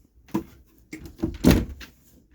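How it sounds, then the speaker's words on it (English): Closet doors in the bedroom of a 2018 Thor Freedom Elite RV open with a few soft clunks and a louder thump near the middle, alone with no talking. "Hanging rod, and those doors open on the other side as well in the bedroom."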